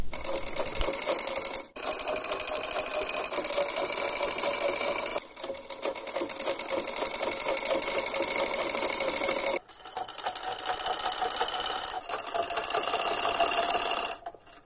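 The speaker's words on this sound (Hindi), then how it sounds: "मेन फैब्रिक के ऊपर अस्तर के फैब्रिक को सेट करके नेक की स्टिचिंग कर लेंगे।" A sewing machine runs in long steady bursts while stitching the neckline of a frock-style long suit, its lining fabric set over the main fabric. The close, loud whirring stops briefly between runs.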